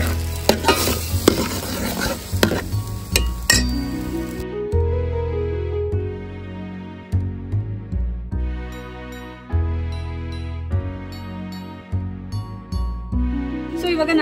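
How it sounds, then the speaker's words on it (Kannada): Spoonfuls of sandige crisps clatter and sizzle as they are stirred in hot sunflower oil in a home kitchen, with bursts of clinking and bubbling frying throughout. "ಇವಾಗ ನಂಚ್ಕೊಳಕ್ಕೆ ಸಂಡಿಗೆ ಮಾಡ್ತಾ ಇದೀನಿ."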